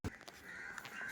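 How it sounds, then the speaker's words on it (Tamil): A crow caws once or twice, faint and somewhat distant, outdoors where food is being scattered for dogs, with a low steady background hiss. "காக்காவும் வர ஆரம்பிச்சிருச்சு."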